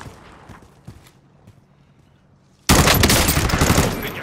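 Call of Duty: Warzone gunfire erupts after near-quiet footsteps, a loud burst of rapid automatic fire close by that continues to the end.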